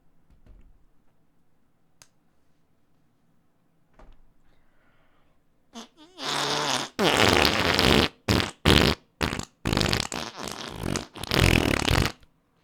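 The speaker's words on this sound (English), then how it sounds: "Let's hear a sample of the fart noises." Loud, close fart noises from a voice actor in a run of about six sharp, noisy bursts with short gaps between them, coming after a quiet stretch with a few faint clicks.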